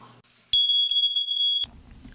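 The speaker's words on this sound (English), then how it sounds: "This is a smoke alarm" A smoke alarm gives one loud, piercing high-pitched beep lasting about a second, close by.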